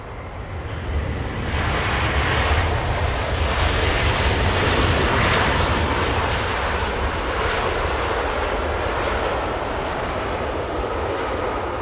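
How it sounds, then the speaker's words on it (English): A Singapore Airlines Airbus A350-900 jet at LAX roars loud and close, its engine noise building after a second into a sustained broadband rush with a faint whine, holding steady to the end with no talk. "Singapore, a 15-hour flight for this one. An Airbus A350-900, the 6th most tracked in the entire world."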